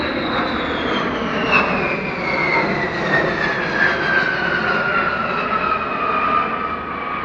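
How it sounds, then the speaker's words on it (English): A Boeing B-52 Stratofortress from the 20th Bomb Squadron, Barksdale, makes an airshow flypast on its Pratt & Whitney TF-33 engines, a loud sustained jet roar with a high whine that slides steadily downward as it passes. "It's a B52 Strato Fortress from the 20th Bomb Squadron at Barksdale in Louisiana."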